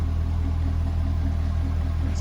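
Deep, steady idle rumble from the engine of a 2005 Chevrolet Corvette Z51 coupe, a constant low throbbing drone that is loud and close, with no voices.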